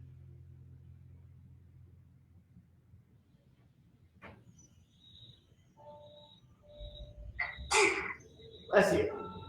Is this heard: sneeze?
yes